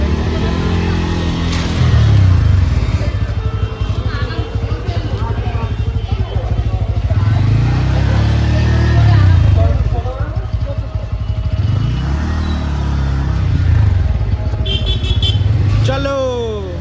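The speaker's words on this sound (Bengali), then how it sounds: "দেখো সুমনদা আমার বাইকটা চালাচ্ছে।" A Kawasaki Z900 motorcycle rides along with a loud continuous engine drone rising and falling through gear changes, with wind noise and people talking over it.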